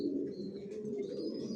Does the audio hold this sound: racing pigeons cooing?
yes